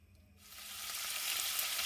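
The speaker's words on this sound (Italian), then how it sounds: "Quando l'olio è caldo aggiungete 4 spicchiettini d'aglio" Small garlic cloves drop into hot olive oil and start sizzling: a soft crackling frying hiss rises quickly after a quiet moment and holds steady, close and alone without talk.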